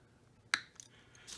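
Diagonal cutters snip through lead came for a leaded glass solar lantern, giving one sharp, close metallic snip followed by a few faint clicks against quiet room tone.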